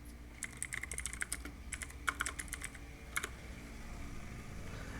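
Typing on a computer keyboard in quick irregular bursts of crisp, close key clicks with brief pauses between them, alone with no voices.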